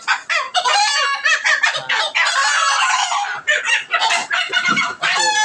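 Chickens cluck, squawk and crow loudly and continuously at close range in a poultry shop at Saturia market, several birds calling over one another in busy overlapping bursts.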